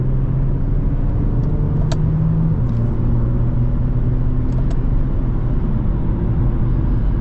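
An Infiniti G35 engine hums and rumbles steadily inside the car while driving, with a slight pitch step as a gear changes through the paddle shifters, under constant road noise.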